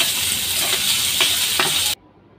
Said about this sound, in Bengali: পেঁয়াজটা এখন ভালো করে নাড়াচাড়া দিয়ে লাল করে নিচ্ছে